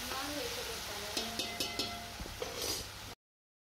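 Green chilies, torn in half, frying in hot oil for a chole masala curry, giving a steady close sizzle with a few light clinks and stirring scrapes in the pan.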